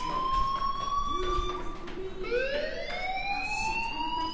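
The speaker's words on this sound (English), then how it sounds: "do you hear that fire alarm? That means you should be outside." A fire alarm wails inside the video game Life is Strange, loud and continuous, with its rising and falling electronic siren tones sweeping upward midway through.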